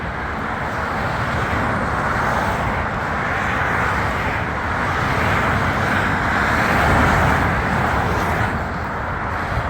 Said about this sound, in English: This is the motorway, the M5.